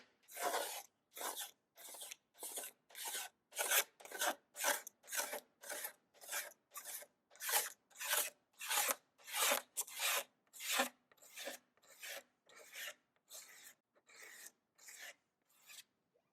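Rhythmic hand sanding on a yellowed plastic car headlight lens: about two dozen steady, evenly spaced rasping strokes, close and fairly quiet, with no voices.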